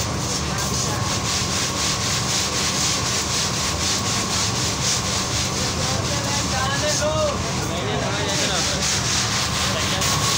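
Black chickpeas roasting in hot sand at a commercial roasting setup, giving a steady, loud gritty rubbing and scraping that runs continuously throughout.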